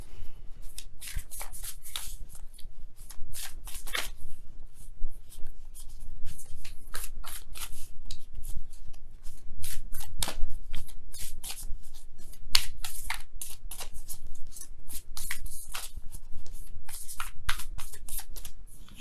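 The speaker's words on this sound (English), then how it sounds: "let me go ahead and really shuffle" Tarot cards shuffled close up, a steady stream of rapid riffling and flicking bursts, no voices.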